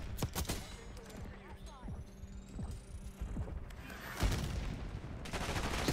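Gunfire in the video game Call of Duty Black Ops 6 comes as bursts of rapid automatic shots mixed with single cracks over a steady droning hum, under brief talk.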